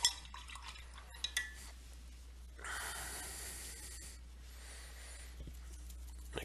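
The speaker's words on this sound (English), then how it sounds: "Alright, so then I'm going to wash this brush here." A small brush used for painting Adeptus Mechanicus miniatures is swished and rinsed in a water pot: close, soft watery swirling and light clinking, with a louder stretch of washing in the middle and quiet breathing around it.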